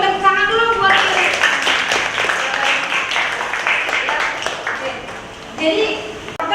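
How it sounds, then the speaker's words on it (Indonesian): A classroom of students clapping together in applause, a dense burst of hand claps under chatter and a teacher's voice, fading near the end. "tepuk tangan dulu buat ini"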